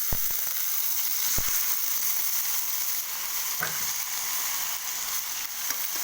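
Squid for adobo fries in a pan, giving a loud, continuous close sizzle with a few sharp clacks of a utensil against the pan.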